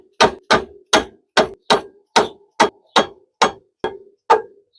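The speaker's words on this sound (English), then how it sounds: "you can use a dead blow hammer" A dead blow hammer strikes the caliper bolts on a 2023 Polaris Sportsman High Lifter ATV hub, eleven sharp, evenly spaced blows, loud and close, with silence between each hit.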